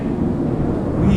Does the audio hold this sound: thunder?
yes